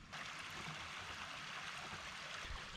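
A forest creek in a steep valley rushes and gurgles continuously, with a steady, close wash of flowing water and no talk.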